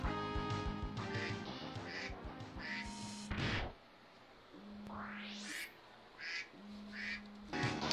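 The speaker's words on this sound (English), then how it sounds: "I think I hear a duck." A duck quacks in the Mega Man X3 video game, short repeated cartoon quacks cutting through game music and chiptune effects, with a rising sweep tone partway through.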